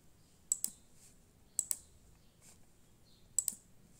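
Crisp computer mouse clicks come mostly in quick double-click pairs, spaced about a second or two apart against a quiet background, faint but sharp.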